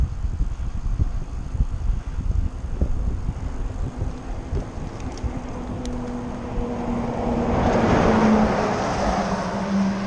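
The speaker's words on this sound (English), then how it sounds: "we keep getting all these big lorries going past" Big lorries rumble past on a road lined with plane trees, heard from a bicycle during a touring ride. A low engine drone builds into a loud, broad rushing swell near the end, with wind buffeting the microphone.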